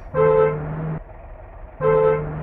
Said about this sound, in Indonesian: Oh, ini juga sama dengan klakson bus bumulan ya.